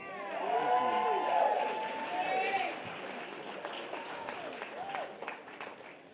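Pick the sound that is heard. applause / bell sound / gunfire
applause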